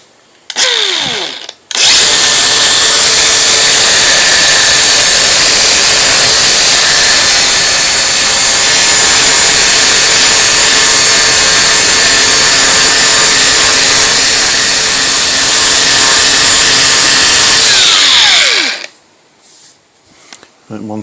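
Continuous power sanding of a Petter AB1 diesel generator part with fine 400 to 800 grit sandpaper, a steady loud whirring hiss running for most of the span, starting and stopping abruptly.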